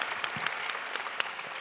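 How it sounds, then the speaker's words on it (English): Audience at a Virgin Atlantic business event in Los Angeles applauding a panel, dense continuous clapping with a few sharper claps standing out, loud and near. "So a huge round of applause for our panel, Sir Richard Branson, Cassey Ho, Sean Rad"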